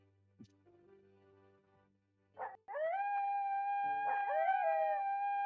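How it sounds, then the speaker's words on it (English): A long wavering howl rises and holds after a few faint knocks and a short burst, like a wolf or dog calling from a distance, steady and sustained to the end. "You hear the howls"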